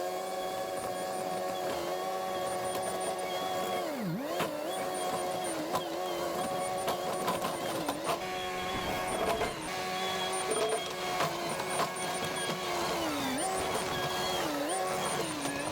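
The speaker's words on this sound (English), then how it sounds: "I'll track it with the loader, just like up and down with the skiddy" A skid steer loader tracks up and down over dirt on a mountain bike pump track, its engine whining and droning steadily with rising and falling tones as it moves, while voices talk faintly.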